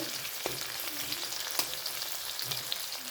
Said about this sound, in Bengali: ভেজে নেব। ভালো করে নেড়ে নেব।